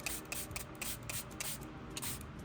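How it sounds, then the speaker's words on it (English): A spray bottle mists water onto a watercolor palette in a run of short, quiet spritzes, each a soft hissy puff, repeated in an uneven rhythm close by. "spray my palette."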